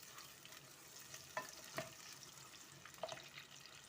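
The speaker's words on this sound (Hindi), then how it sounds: "ये हमने प्याज अपने डाल दिए हैं घी के अंदर। अब हम इन्हें लाइट ब्राउन होने तक पकाएंगे।" Onions sizzling in ghee for a potato and okra dish, a quiet steady frying hiss with a few faint utensil clicks near the pan, no voices.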